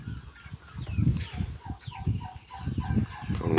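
Turkeys cluck steadily at a homemade bird feeder stocked with wheat, a close, busy run of short throaty calls and gobbling notes with no talking.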